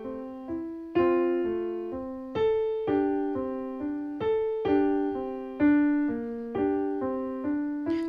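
Solo piano plays the melody of In the Bleak Midwinter without pedal or left hand, single clear notes struck one after another at a gentle, even pace, each decaying quickly, close and alone.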